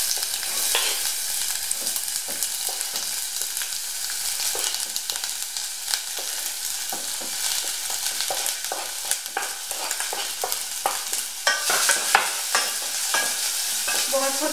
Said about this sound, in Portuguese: Vou refogar a cebola um pouco até começar a ficar transparente.